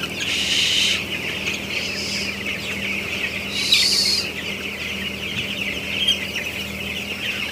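Broiler chickens in a closed-house barn with blower ventilation: a steady mass of clucking and chatter from many birds over a constant fan hum, with a few louder, sharper calls rising above.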